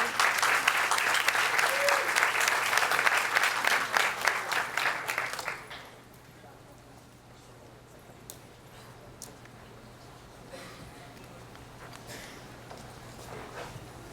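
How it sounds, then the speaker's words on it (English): Audience applause at a campus ceremony, loud sustained clapping for about five seconds that stops abruptly and gives way to quiet room tone. "Round of applause."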